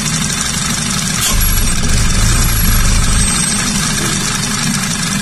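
A 2010 Audi A4 Quattro engine idles steadily with the oil filler cap off, a close, continuous low rumble and hiss with a slight rise in intensity partway through, no voices.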